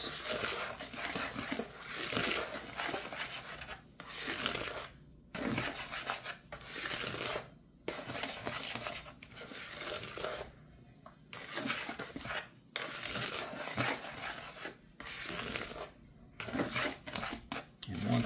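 Dry hush puppy ingredients stirred in a bowl, a continuous close scraping and rattling with brief pauses, steady and fairly loud throughout, with no voice.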